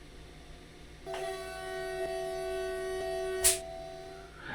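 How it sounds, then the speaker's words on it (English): BR 101 electric locomotive horn in a train simulator game, a loud, steady two-tone blast held for about three seconds over a low cab hum, then cut off with a brief click. "test the horn with the foot pedal"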